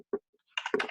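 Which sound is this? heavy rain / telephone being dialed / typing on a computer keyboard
typing on a computer keyboard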